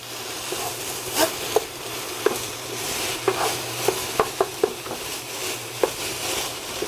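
A spoon stirs a cheeseburger-helper style mixture in a pan, with soft scraping and scattered sharp clinks against the metal over a low background hum.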